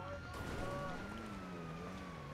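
A wailing police siren rises and falls steadily in a video game, moderately distant, blended with a broad rumbling background and a faint voice underneath.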